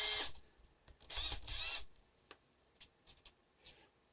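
A tool works on the nuts of a car's front shock absorbers, with three loud bursts of whirring or ratcheting up close followed by several short, lighter clicks and taps separated by silence.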